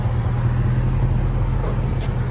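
Chrysler 300C with a 5.7L HEMI V8 and Carven TR series exhaust (rear delete, 4.5-inch tips) idling: a steady, deep low rumble holding constant throughout, with no talking.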